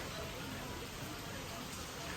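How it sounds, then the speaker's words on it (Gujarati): Steady, dense rain hiss fills the whole stretch, an even broadband wash with no breaks, fairly quiet overall. "તો આજે વેલકમ કરું છું વરસાદના સાથે. કેવો ચાલુ જ છે."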